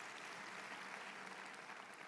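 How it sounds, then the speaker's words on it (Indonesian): A church congregation claps steadily during a sermon, the applause a faint, even wash with no breaks. "Ayo tepuk tangan buat Tuhan Yesus"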